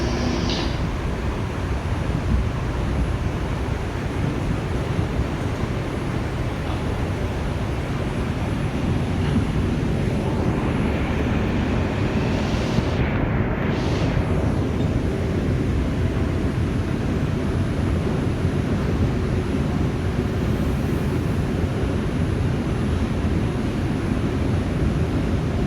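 An NYC subway R142 train on the 4 line, running express toward Woodlawn, heard from on board as a continuous loud rumble and roar with a brief high whine partway through.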